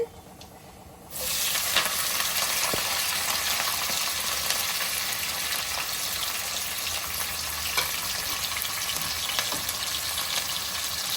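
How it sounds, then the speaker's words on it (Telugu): Onions, chilli and curry leaves hitting hot oil for mutton curry, a sudden loud burst of sizzling that settles into steady, close frying hiss with faint stirring clicks and no talk. "ఇప్పుడు ఆనియన్స్, చిల్లీ, కరివేపాకు వేసేసుకుంటున్నానండి."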